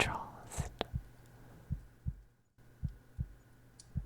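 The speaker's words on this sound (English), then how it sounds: "To have his heart beating again for someone." A slow, soft heartbeat thuds close and low in a steady paired rhythm, about eight beats in a quiet room, with faint breathy whispering and a brief rustle early on.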